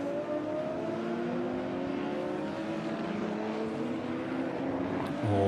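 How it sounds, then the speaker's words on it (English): A De Tomaso Pantera classic race car competing in a DTM Classic race at the Red Bull Ring sustains a loud, steady engine drone with rich harmonic tone, holding constant throughout with a slight shift near the end. "The Pantera purring like a panther."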